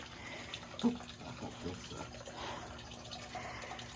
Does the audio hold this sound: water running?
yes